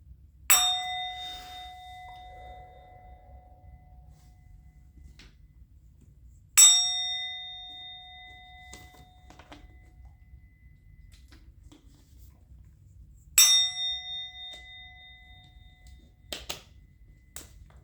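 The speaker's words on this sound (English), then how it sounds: "I'm going to ring the bell." A bell struck three times, several seconds apart, each a bright ringing clang that decays slowly, heard alone with a few small clicks near the end.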